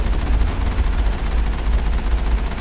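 Sustained gunfire from a weapon in the sci-fi shooter Mass Effect, a dense, loud rattle of rapid shots over a heavy low rumble with no pauses.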